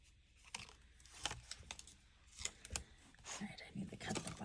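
Scissors snip paper for a junk journal, close and fairly quiet, in several short cuts with some paper rustling between them and a voice speaking quietly over part of it.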